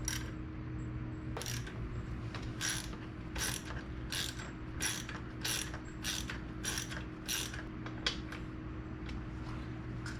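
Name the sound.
torque wrench tightening BMW K1600 front wheel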